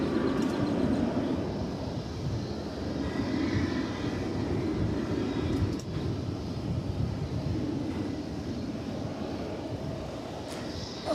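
An Airbus A321 jet passing at DFW Airport, a steady broad engine roar holding loud and even throughout with no talk over it.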